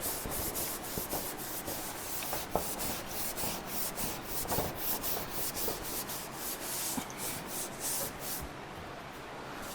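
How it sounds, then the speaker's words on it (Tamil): A teak-toned wood veneer on plywood being polished by hand, giving a steady run of rhythmic rubbing strokes, fairly close and continuous, with no talking. "இதை வந்து பாலிஷ் பண்ண எப்படி வருதுன்னு பாருங்கள்."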